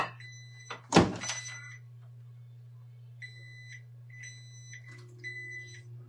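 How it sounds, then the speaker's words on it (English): A kitchen appliance timer goes off with repeated short electronic beep bursts in groups, after a sharp thunk near the start, over a steady low hum of a running microwave. "It means my timer's going off."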